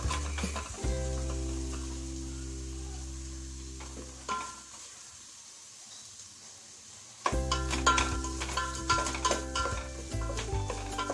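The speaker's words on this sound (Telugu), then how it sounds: "మనం కట్ చేసుకున్న ఆనియన్ని ఇలా వేసేసుకోవాలి" Chopped onions sizzling in a pan as they are stirred into egg biryani: a steady frying hiss with a brief drop to near quiet, then renewed sizzling with spoon and pan clatter.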